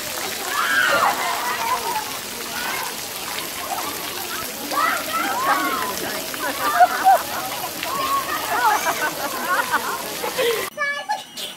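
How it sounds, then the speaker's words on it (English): A baby splashes water in repeated bursts close by during a shower, while voices chatter and laugh over it. "you splashing?"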